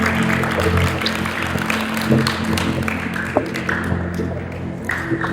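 Church congregation clapping together during a sermon, a dense continuous wash of applause held for several seconds with no voices on top.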